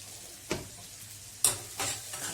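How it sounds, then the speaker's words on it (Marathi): Tomatoes for sambar are sautéed in a pan, with three quick stirring scrapes over a soft, steady sizzle. "छान परतून घेऊ।"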